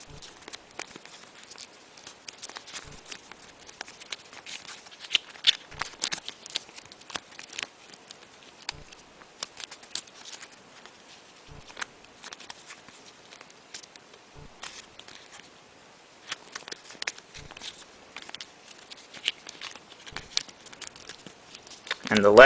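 Sheets of paper are folded, tucked and creased into a paper balloon, giving soft rustles and crinkles with sharper taps at the creases, close by and fairly quiet.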